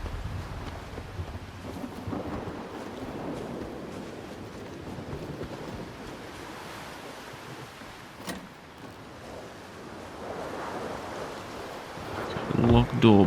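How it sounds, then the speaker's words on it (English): Wind and a low storm rumble in the S.T.A.L.K.E.R. 2: Heart of Chornobyl video game, a steady broadband roar that swells and gusts for the whole stretch, with a sharp crack near the end. "It looks as though there's a storm coming."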